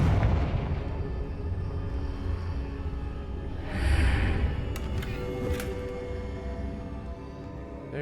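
A Confringo fire spell blasts in the video game Hogwarts Legacy, a low rumbling boom with a crackling burst over a continuous dense game soundscape, followed by sharper magical zaps.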